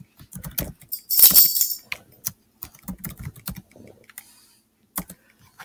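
Close, crisp clicking of a computer keyboard as a first name is typed, quick irregular keystrokes with a brief louder rattle in the middle.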